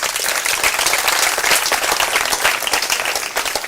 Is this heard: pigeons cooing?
no